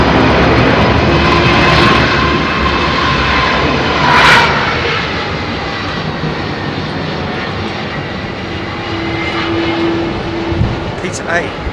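A heavy jet airliner departs runway 27R at London Heathrow, its loud, steady engine roar with a whining tone filling the air and slowly easing as it climbs away.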